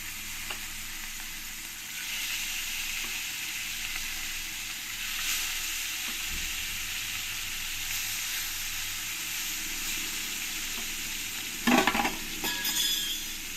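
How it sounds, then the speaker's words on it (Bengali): Koi fish frying in a pan for a koi and taro curry: a continuous near sizzle with faint stirring scrapes, and a brief louder burst of spatter near the end. "পরের মাছগুলো আমি এই একই রকম করে ভেজে নেব"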